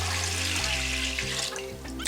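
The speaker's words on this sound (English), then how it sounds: "You'll want to fill this barrel that lives in the rice cooker with about an inch and a half of water." Water is poured into the metal barrel of a rice cooker, a steady splashing trickle that thins near the end, heard over background music.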